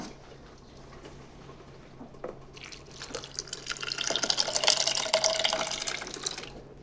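Cooked pinto beans and their cooking liquid pour into a blender with a soft splashing gurgle that builds from faint drips to a fuller, louder pour before tapering, with no talk.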